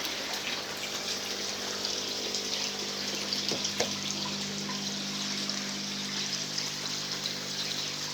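Water from a koi pond shower filter trickles and splashes steadily, a constant close wash of falling water with a faint pump hum beneath it and no voices.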